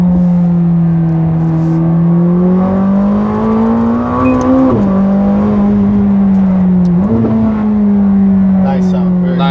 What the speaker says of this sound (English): sound of the exhaust. That's what 720 was missing.